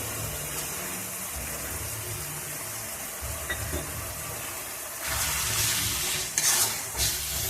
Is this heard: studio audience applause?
no